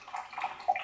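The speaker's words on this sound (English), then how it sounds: "So first into there goes the balsamic vinegar." Balsamic vinegar pours into a bowl for a fall side dish, a soft liquid trickle with faint gurgling that swells briefly near the end, close and quiet with no talking.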